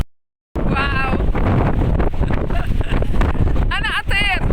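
Strong wind buffets the microphone on the Cap Corse coastline, with a continuous loud rumble and gusts throughout. Voices, some high-pitched and excited, call out over the roar.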